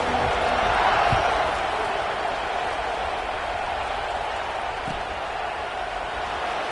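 Football stadium crowd at a Alabama game roaring before kickoff, a broad, steady wash of distant cheering and noise that holds throughout.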